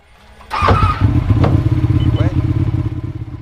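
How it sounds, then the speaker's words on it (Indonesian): A Ducati motorcycle engine fires up abruptly and runs with a loud, throbbing rumble, revving with rising pulses while a voice is heard briefly over it. "Motor Ducatinya digaskeun sampai ngerev dan gak bisa lebih cepat lagi."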